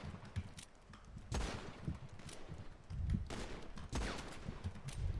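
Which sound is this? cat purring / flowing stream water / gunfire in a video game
gunfire in a video game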